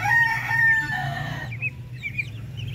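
Darag native chickens on a farm, close by: a loud, drawn-out crow for about a second and a half, followed by softer, scattered clucks and chirps from the flock.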